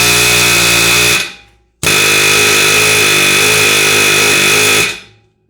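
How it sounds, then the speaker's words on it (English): An air hammer pounds on a tight axle on a 2007-2014 Honda Fit during clutch work, two loud sustained close bursts of rapid, buzzing hammering separated by a brief pause. "Get a little air hammer action on the thing."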